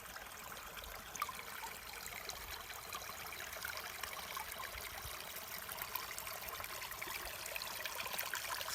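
Creek water trickles steadily in a quiet outdoor setting during winter, a soft continuous broadband wash with no voices, evenly sustained throughout.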